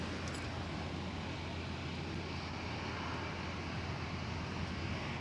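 Boeing 747 airliner in Suparna livery at Schiphol Airport, its jet engines giving a steady, continuous broadband roar at moderate distance with no talk.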